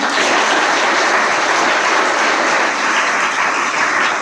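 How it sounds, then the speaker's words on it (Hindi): Loud, dense applause from an audience in a school hall at an honour ceremony for a Padma Shri recipient, continuous clapping throughout with no speech over it. "तो एक बार जोरदार ताली"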